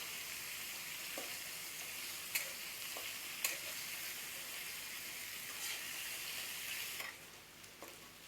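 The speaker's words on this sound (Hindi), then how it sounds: "चिकन को भी 2 मिनट में फ्राई करेंगे।" Chicken fries in a pan for chicken Maggi with a steady, fairly quiet sizzle and hiss, broken by occasional light clicks from stirring.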